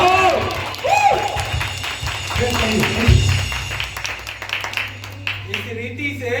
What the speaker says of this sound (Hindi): वो ताली मारो।